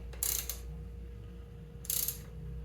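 A socket wrench ratchets on the cylinder head bolts of a 1975 Honda Z50A engine, two short bursts of rapid clicking about a second and a half apart against a quiet, humming background.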